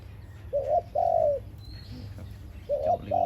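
A zebra dove coos nearby in short rising-falling phrases, two calls, a pause, then two more, over a faint low background hum.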